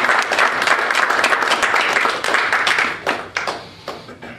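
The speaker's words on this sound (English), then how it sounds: "I want you all to give yourselves a round of applause" Audience at an NSBE DC 25th anniversary founders' and past presidents' brunch applauding, a dense wash of clapping that thins out and tapers into scattered claps.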